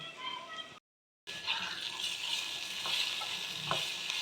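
Salt, turmeric and chili powder frying in a pan while being stirred, a soft sizzle with scraping strokes that breaks off for a brief silent gap and then resumes.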